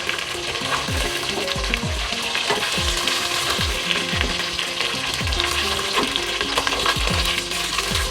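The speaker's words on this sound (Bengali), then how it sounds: "এভাবে আমি সবগুলি মাছই একইভাবে ভেজে নেব।" Tuna fish pieces sizzle steadily in hot oil in a pan, a dense continuous frying hiss with repeated scraping clinks of a spatula turning them, close and fairly loud throughout with no talking.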